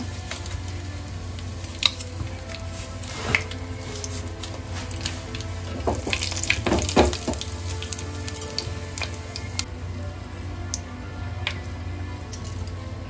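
Dried red chillies and a bay leaf fry in hot oil with a steady soft sizzle, broken by a few louder crackles and spits near the middle, close and without talk.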